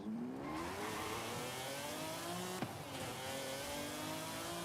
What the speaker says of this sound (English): Sounds like a V12 to me.